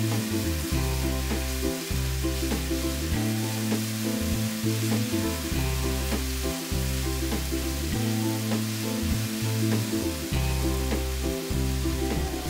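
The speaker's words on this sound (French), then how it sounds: "Faire suer l'ail et le gingembre 10 secondes. Ajoutez la purée de piment," Garlic, ginger and chili paste frying in hot oil in a sauté pan over high heat, a loud, steady close sizzle with rhythmic stirring scrapes throughout and no voices.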